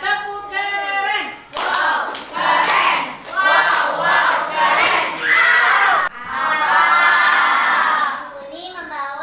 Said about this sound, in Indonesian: Ya tepuk keren.